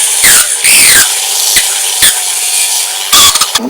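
A small rotary grinder carves details into a sculpted head, its high whine cutting in and out in short bursts and squeals, close and loud with no talk.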